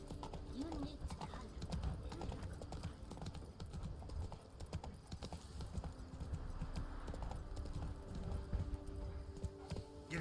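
Roach the horse galloping in The Witcher 3, rapid rhythmic hoofbeats pounding throughout over faint ambient game sound, with speech at times.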